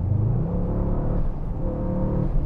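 A 900 PS Brabus Rocket 900 accelerates with a deep, rumbling engine note whose pitch climbs steadily, heard from inside the car at a constant loud level without speech.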